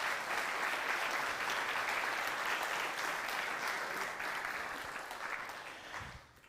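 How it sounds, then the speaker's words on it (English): A conference audience gives a round of applause to the speakers of an EV session, dense sustained clapping from many people that holds steady and then tapers off near the end. "Maybe a round of applause for our speakers for this session."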